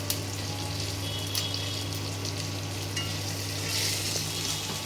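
A continuous close sizzle of spices frying in hot oil in a kadai, steady and crackling, with occasional stirring scrapes and no talking.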